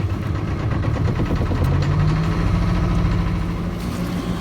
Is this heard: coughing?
no